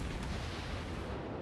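A warship's guns fire armour-piercing shells in World of Warships, heard as a broad, rumbling boom that fills the moment and holds at an even, distant roar without speech.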